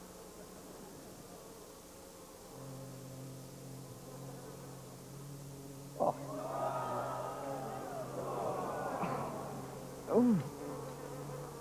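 Bees buzzing steadily at close range, a continuous droning hum with brief louder swells as they move near, while a few short exclamations and voices are heard over it.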